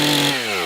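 Chainsaw cutting a marking notch into a tree trunk before felling, a loud steady engine drone that drops in pitch partway through as the chain bites into the wood.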